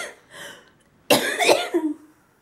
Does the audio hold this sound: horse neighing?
no